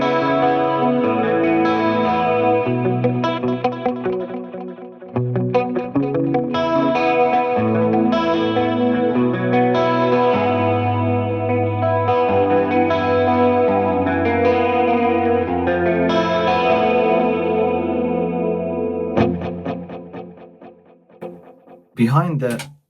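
An electric guitar through a Fractal Audio clean delay preset from an 80s cover band set plays a clean melodic line with repeating echoes and chorus shimmer, sustained and prominent, fading out near the end with a brief burst after.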